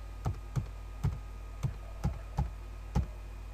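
Keys tapped on a computer keyboard while entering a site name into a web browser: seven distinct, evenly spaced clicks, close and fairly quiet, with no talking.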